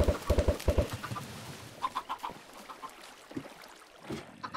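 Chickens in the Minecraft video game cluck in short bursts near the start, followed by sparse, quieter game sounds and a few faint clucks.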